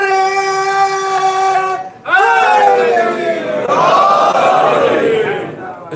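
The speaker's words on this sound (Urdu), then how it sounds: "ہم سب کی مشکل حل کرو، مشکل کشا علی، نعرے" Crowd at a religious gathering chanting slogans in unison, loud sustained voices forming two long swelling chant phrases separated by a brief pause.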